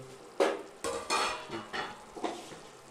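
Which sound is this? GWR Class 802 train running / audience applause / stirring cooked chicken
stirring cooked chicken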